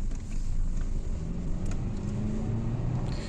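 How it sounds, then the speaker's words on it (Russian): Cars sit in a traffic jam on a Dresden street during a strike, a dense, steady low engine rumble with faint higher whines drifting in near the end, with no voices. "Кошмар, смотрите, какая пробка."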